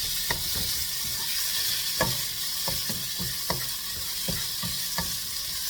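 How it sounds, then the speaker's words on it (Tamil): Tomatoes frying in a pan for a village-style fish curry, with a constant hiss of sizzling oil broken by occasional scrapes and knocks of a stirring spoon, close up with no talk. "தக்காளி பழத்தை லைட்டாக இப்போ எல்லாம் நல்லா பொரிஞ்சிச்சு"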